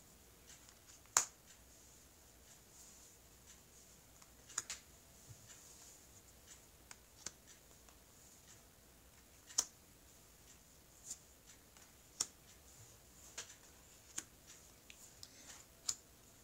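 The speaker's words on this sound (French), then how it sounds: "Alors, je vais étaler les cartes." Tarot cards laid out one by one on a table give sparse, quiet snaps and soft clicks at uneven intervals, with a faint hiss between them and no voices.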